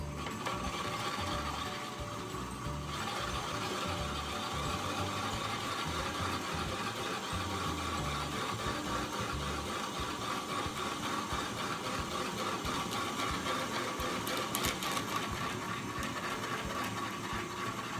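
Engines run at a steady idle throughout, a continuous loud mechanical drone threaded with rapid ratcheting, gear-like clatter and no pauses.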